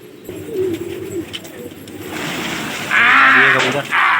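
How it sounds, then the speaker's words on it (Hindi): Pigeons coo nearby in low rolling calls, growing louder toward the end over a steady outdoor background with a few scattered chirps. "ये 4 कबूतर और निकल के आ रहे हैं"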